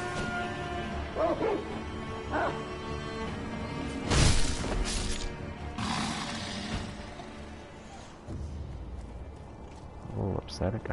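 Dog in the Sekiro: Shadows Die Twice game barks and yips in short bursts amid crashing game effects, with someone talking over much of it.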